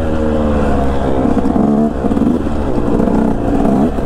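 A KTM 125 two-stroke dirt bike engine buzzes loudly and continuously up close as it rides through grassy ruts, with its pitch wavering as the throttle rises and falls.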